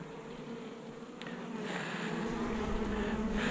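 Dense, steady buzzing of many honeybees at an opened hive, a close, continuous drone that swells slightly louder partway through, with no voices.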